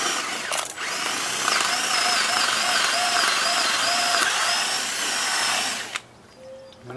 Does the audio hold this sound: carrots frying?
no